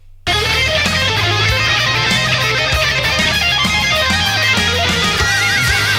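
A sustained, distorted electric guitar phrase from a solo, with bending, vibrato-laden notes played loudly over a steady backing, no talking.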